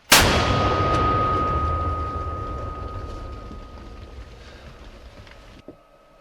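A single loud combat mortar blast in Serebryansky forest, Ukraine, booms at the start, its rumble slowly fading over several seconds before a faint thud near the end.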